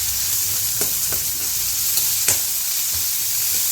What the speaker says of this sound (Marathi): कांदो बरो तळसून घेवया फूल पावर सारको